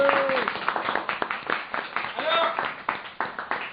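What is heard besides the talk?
audience applause at a comedy show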